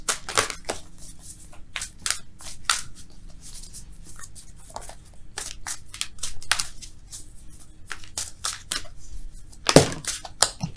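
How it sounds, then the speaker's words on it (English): Tarot cards being shuffled: a steady run of crisp riffling snaps and flicks, close by, with a sharper burst near the end and no talking. "Let's shuffle for real, though."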